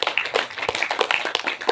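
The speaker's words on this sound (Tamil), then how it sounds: "அவர்களுக்கு நம்முடைய பாராட்டுக்களை கைத்தட்டி சிறப்பான விதத்தில் தெரிவித்து மகிழ்வோம்" A church congregation claps to applaud the children: steady, dense, moderately loud hand clapping from many people, continuing without a break.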